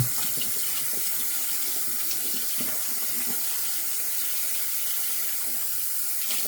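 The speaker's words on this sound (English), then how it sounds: "let's get this rinsed out. Get my hand cleaned off here" Tap water runs steadily into a sink while hands are rinsed under it, a continuous close splashing rush with no talk.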